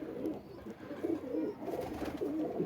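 A pigeon coos repeatedly close by in the evening, with soft, rolling calls repeating in an even rhythm over light background noise and no speech.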